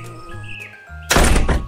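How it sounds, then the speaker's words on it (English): A wooden door slams shut with one loud, sharp bang after a stretch of quiet tones and background music. "closed his door with a bang"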